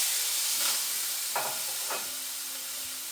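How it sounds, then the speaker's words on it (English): Pork tenderloin sizzles loudly in a hot pan with olive oil, a constant bright hiss with a few sharper crackling flare-ups, close by and without speech. "Listen for that nice sizzle."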